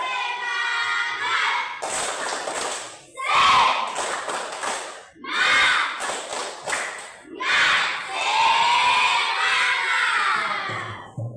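A classroom group does a rhythmic spirit clap with shouts, short bursts of clapping and voices in bouts separated by brief pauses, fairly close and lively.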